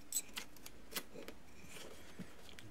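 Scissors snip blue tape off sandpaper glued to a radius block: a handful of short, sharp, faint cuts at irregular intervals, close up and without talking.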